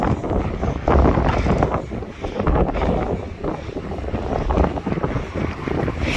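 Strong wind after a hurricane in Novokuznetsk buffets the microphone in a steady, loud roar with gusty swells, broadband and unbroken throughout.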